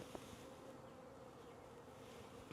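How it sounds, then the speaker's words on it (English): A steady, dense hum of many bees buzzing close by, continuous and fairly loud throughout, with no voices, during installation of bees into a new beehive. "I have the bees."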